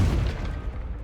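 A Confringo spell explodes in Hogwarts Legacy with a heavy, close boom whose low rumble decays over about a second.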